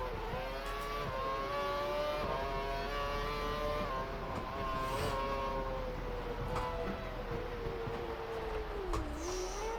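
Caterham F1 race car engine screaming around the Monaco street circuit in the F1 2012 video game, a steady high-pitched whine rising and falling with gear changes, continuous and loud throughout.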